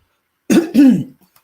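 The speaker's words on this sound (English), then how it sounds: "I'm so sorry, I keep coughing." Two quick, rough coughs in close succession, close up, followed by near silence.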